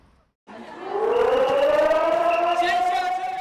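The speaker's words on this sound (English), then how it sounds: "Sirens sounding on the streets of Taiwan Monday as troops kicked off the week with an annual air raid exercise" A loud wailing air raid siren sounds on the streets of Taiwan during an annual air raid exercise, rising in pitch and holding a long, steady tone, with a voice faintly audible beneath it.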